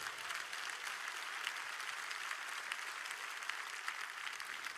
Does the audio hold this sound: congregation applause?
yes